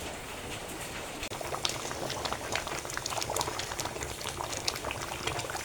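Water comes to a boil in a lidded pan while cooking khud (broken rice) porpora, a steady bubbling rumble with brief pops and splashes running continuously at moderate level.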